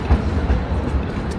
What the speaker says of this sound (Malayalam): ട്രാം,